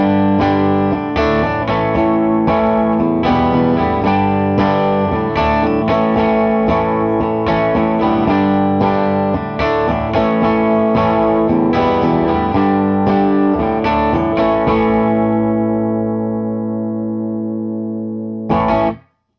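An electric guitar plays through a Brown Bear Dirty Boost pedal set at about a quarter, giving lightly hairy, slightly gritty chords and riffs that ring steadily and loud, then fade out before a short final strum.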